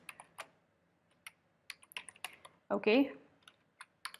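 Keystrokes on a computer keyboard click in scattered bursts during an HTML coding lesson, close and clear, with a brief spoken word partway through.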